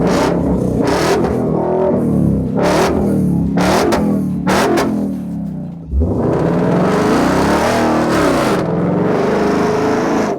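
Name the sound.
$300K Bronco Baja race truck engine starting and revving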